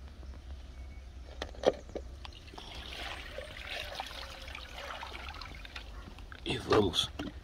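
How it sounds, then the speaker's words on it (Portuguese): Water poured out of a bucket or container outdoors onto the ground, a soft trickling splash with a brief spill early and a louder gush near the end, under quiet background and a voice. "Agora vamos derramar a água."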